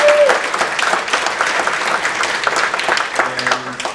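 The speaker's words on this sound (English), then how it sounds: "A big round of applause again for the organizers, for Jeanette and Aldo." Conference audience applauding the event organizers, a steady, dense clapping that fills the room for the whole stretch with a faint tone at the start.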